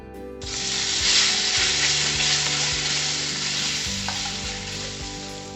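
Beef pieces frying in hot oil for black pepper beef: a loud, steady sizzle that starts suddenly and holds, close up, with light stirring noises and no talking.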